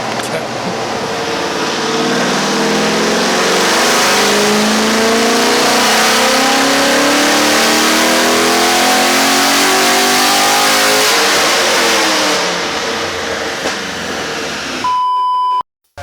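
A car engine revving steadily at high speed during a sound level measurement in a workshop, loud and close, with rising harmonic sweeps as the revs climb, then a sudden cutoff followed by a short electronic beep.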